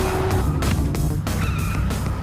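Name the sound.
gang's car driving in a chase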